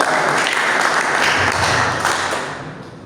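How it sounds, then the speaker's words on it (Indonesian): A congregation at an Indonesian Sunday worship service breaks into loud, dense, sustained applause that fills the hall and tapers off near the end. "Beri tepuk tangan buat Tuhan kita."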